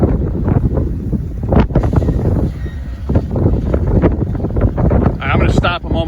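Strong wind gusts roar and buffet the microphone outdoors by the railroad at Decatur Junction, a dense continuous rumble with brief swells and dips.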